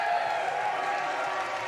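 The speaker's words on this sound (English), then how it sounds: "Crowd going wild out here at Origins Parkour." Steady roar of a large crowd cheering at the World Parkour Championships skill finals, a dense, continuous wash of voices and applause holding at an even level throughout.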